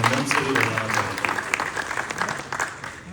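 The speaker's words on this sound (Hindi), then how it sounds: "एक बार जोरदार तालियां आपकी उपस्थिति के लिए मैं आपसे चाहूँगा" Audience applause at the Saang Samagam festival at Film City, Rohtak: a dense burst of many hands clapping, loud and close at first, then thinning and fading slightly, with a voice talking over it.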